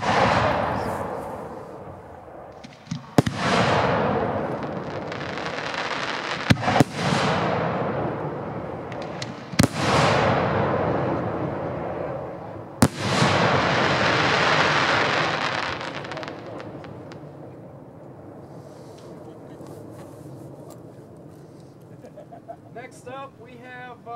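Dominator 5-inch aerial firework shells from a Versa B1 assortment bursting in sequence: five sharp, loud booms spaced a few seconds apart, each trailing into long crackling, hissing showers that fade out toward the end.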